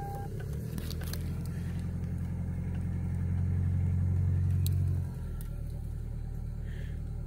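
Toyota Camry engine running right after startup, a close, steady idle rumble that swells briefly louder for a couple of seconds before settling back to a lower, even hum.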